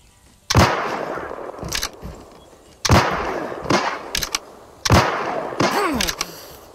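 Game gunfire while shooting an enemy player: three loud bursts of shots spaced a couple of seconds apart, each with a few quicker follow-up pops and a ringing tail, close and prominent with no talking.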